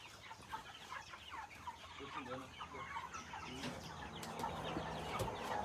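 Village chickens cluck and chatter in a busy farmyard, several birds overlapping in irregular bursts at moderate distance, with faint voices in the background.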